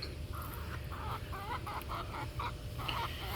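A chicken clucks repeatedly in a garden, a steady run of short mid-pitched clucks over a constant outdoor background hiss, with no one talking.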